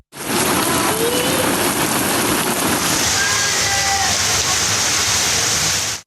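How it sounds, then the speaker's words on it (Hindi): Heavy torrential rain with thunder and lightning pours down steadily, a loud dense hiss of water on surfaces throughout, with no voices. "गरज चमक के साथ मौसलाधार बारिश से सड़कों पर पानी जमा हो गया है।"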